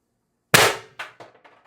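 A Beeman BP50 CO2 carbine with a 16-inch barrel and an expansion mod fires a single Vindicator less-lethal round: one sharp, loud crack followed by several fading rattling echoes, with no voices.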